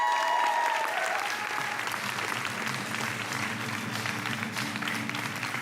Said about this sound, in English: cue the excitement and applause for our next presenters